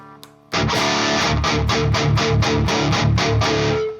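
Electric guitar through a cab simulator with the resonance turned up, a steady run of about ten heavy, distorted palm-muted chugs in even rhythm, loud and close, with no talking.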